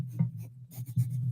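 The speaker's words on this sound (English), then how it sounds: "That's some ASMR drawing sounds." Colored pencil strokes scratch across paper close to the mic, in short uneven bursts of rubbing with small pauses between them.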